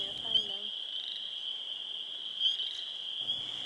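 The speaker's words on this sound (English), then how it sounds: "we moved over to a pond where we thought there would probably be quite a few spring peepers" A chorus of spring peeper frogs calls at a pond at night, a continuous high shrill trilling with a few louder peeps standing out and a low rumble at the start and end.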